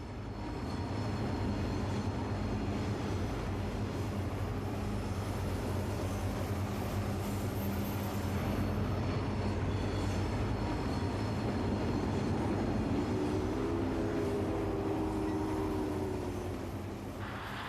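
A heavy freight train headed by an R2 articulated locomotive rumbles steadily past, a loud continuous low roar with grinding wheel noise and a rising tonal whine late on, no voices.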